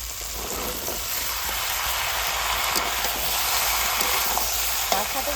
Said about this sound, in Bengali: এবার সবজিগুলো ভালো করে ভেজে নেব